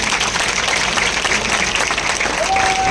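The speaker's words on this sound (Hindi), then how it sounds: "जोरदार तालियों के साथ स्वागत कीजिए।" An audience applauds a police parade at an armed police training college in Indore, Madhya Pradesh, loud continuous crowd clapping that fills the whole stretch, with a faint voice underneath.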